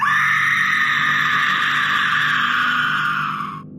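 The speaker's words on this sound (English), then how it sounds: "the scream tore through him" A long, sustained high-pitched scream, loud and close, holding steady for several seconds before cutting off abruptly.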